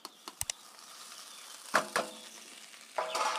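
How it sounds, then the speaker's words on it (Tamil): Cooked rice tipped into a pan of sizzling roasted spices and stirred: a low steady sizzle with a few sharp clinks early, then heavier scraping and stirring strokes, close up and with no one speaking. "சாப்பாடு அதில் கொட்டி நம்ம கிண்டிடலாம்"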